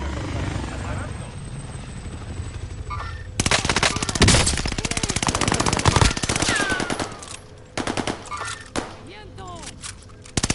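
Automatic gunfire crackles in bursts during a Warzone match, loud and dense over a steady helicopter-like rotor drone, with short pauses between volleys and game voice lines spoken over the action.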